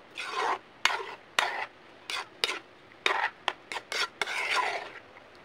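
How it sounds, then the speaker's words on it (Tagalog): A spoon stirs boiling spaghetti sauce in a pot: repeated rasping scrapes against the pot in short strokes with uneven pauses between them, close and fairly loud, with no talking. "Haluin natin siya kasi natilapsik siya."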